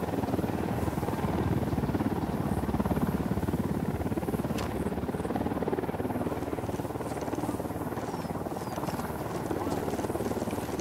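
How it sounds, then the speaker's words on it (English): A helicopter in the Ghost Recon Wildlands video game drones steadily and loudly throughout, its dense rotor rumble filling the scene without pause. "We need that chopper."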